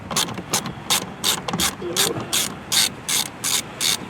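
A ratchet backs out 10 mm screws on a 2023-2024 BMW 230i, loud close clicking in repeated evenly spaced bursts of rapid ticks, with no talking.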